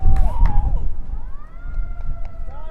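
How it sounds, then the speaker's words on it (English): Emergency sirens wailing and rising and falling near a soccer field during an amateur league match, over rumbling crowd and wind noise, fairly loud and continuous. "The sirens are sounding"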